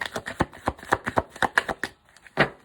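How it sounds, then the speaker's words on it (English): Tarot cards being shuffled by hand in a Taurus reading, a close, crisp run of rapid riffling bursts and taps that stops briefly, then ends with one final burst. "Last shuffle."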